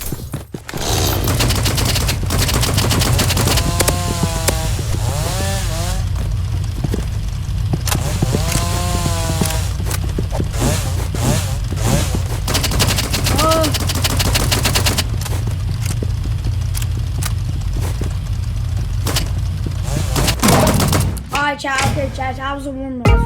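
Rapid gunfire bursts from a freeze ray and chainsaw loadout in the Roblox game Rivals, loud and continuous over a dense game soundtrack throughout, with sharp shots and thuds stacking up near the end.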